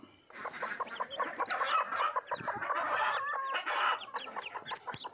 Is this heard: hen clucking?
yes